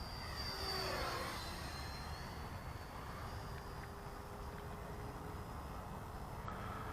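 An eFlite F-16 radio-controlled model jet makes a low pass, its ducted-fan whoosh rising and sweeping past over steady outdoor wind noise, then fading into a lingering hiss.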